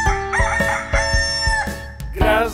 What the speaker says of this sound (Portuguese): cacareja com o galo